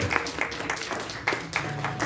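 A church congregation applauds a visiting guest, with moderately quiet, scattered clapping spread across the room in uneven bursts for a couple of seconds.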